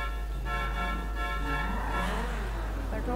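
A modded LaFerrari sports car engine in the GTA V video game hums steadily at idle, then its pitch bends upward near the end as it revs, loud and continuous with no talk.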